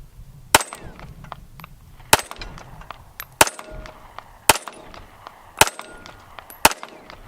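Six sharp gunshots from a Ruger LCP II compact pistol at an outdoor range, fired at a steady, slightly uneven pace about a second apart, each loud crack followed by a brief ring of echo, with low background rumble between shots.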